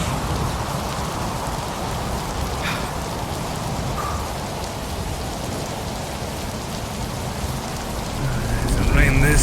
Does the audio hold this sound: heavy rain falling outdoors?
yes